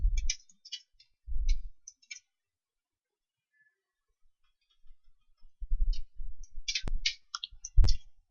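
Sparse mouse clicks sound up close during copy-and-paste work on a computer, a few isolated clicks early on, then a quiet gap, then a denser cluster of sharp clicks near the end.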